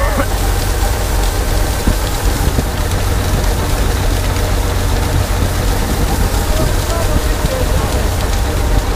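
A Bizon combine harvester unloads grain into a trailer during the harvest: a loud, steady rushing pour of grain over a constant engine drone, continuous and close throughout.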